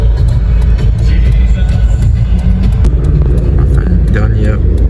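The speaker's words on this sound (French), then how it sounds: "Les voitures qui partent." Car engines, including a Mustang Shelby, rumble nearby under constant chatter and crowd noise at a car meet in a supermarket car park, with a low steady drone as vehicles pull away.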